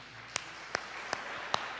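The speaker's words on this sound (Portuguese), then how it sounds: "Dá uma salva de palmas para Jesus aí." Four sharp, separate hand claps at an even pace during a church service, quiet and close, with a low hum in the background and no speech.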